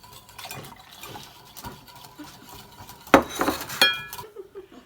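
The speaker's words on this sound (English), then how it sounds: "add the syrup, heavy cream, and lemon juice. Then stir well to combine." A spoon stirs a guava mixture with syrup, heavy cream and lemon juice in a bowl, giving soft scraping strokes and then a few sharper clinks against the dish near the end.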